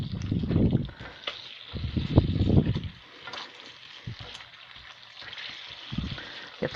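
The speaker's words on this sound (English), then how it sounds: "So I'm starting the eggs in the fry pan. They're just scrambled, making Singapore rice noodles." Scrambled eggs sizzle in a fry pan for Singapore rice noodles, a soft steady hiss broken by louder low scraping and stirring bursts early on, then quieter frying with occasional taps.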